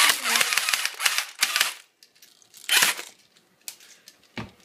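An airsoft gun fires semi-auto at a cockroach in sharp, close snapping bursts. Clusters of rapid clicks come in several separate groups with quiet gaps between them.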